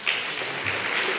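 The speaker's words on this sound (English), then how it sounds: "One more round of applause if we could." Theater audience applauding after a literary reading, a steady wash of many hands clapping in a large, resonant room, sustained and even in level for the whole short stretch.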